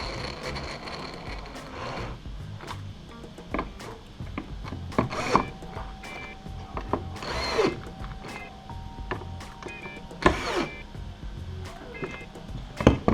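Bolts being tightened down on a mounting bracket, a series of ratcheting, scraping turns in short bursts with pauses between, close and moderately loud.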